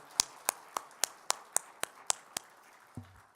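Clapping during a church worship service: about ten sharp, evenly spaced claps in a steady rhythm, fairly faint and distant, ending with a soft low thump.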